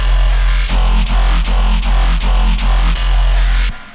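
A heavy synthesized bass growl pulses in a steady rhythm, loud and dense, with sharp rhythmic breaks between phrases before cutting off abruptly near the end.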